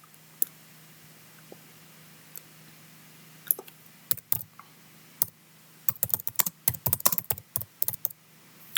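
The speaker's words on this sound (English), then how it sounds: "my keyboard is making so much noise" Irregular bursts of close, clicky keyboard typing, sparse at first, then quickening into a dense flurry of keystrokes over a low steady hum.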